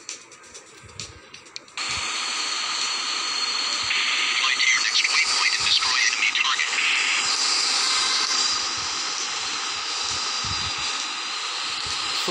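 Steady roaring jet engine at full afterburner in the Air Fighters flight game, a dense broadband rush that surges in around two seconds and holds loud and continuous, with a faint radio-like hiss underneath.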